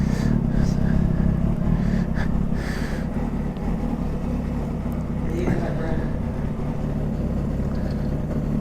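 A motorcycle heads out on a test ride, its engine droning loud and steady with low rumbling and shifts in pitch as it moves off, under a voice talking.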